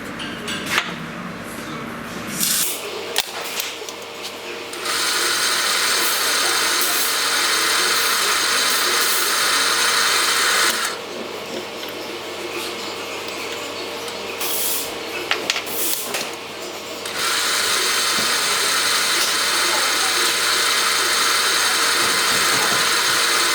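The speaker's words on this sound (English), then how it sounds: "I think I'll just polish it to get this on there" A brass part for a wobbler lamppost steam engine being polished and drilled on a workshop machine: long stretches of loud, steady, hissing grinding that stop and restart, with machine hum between passes.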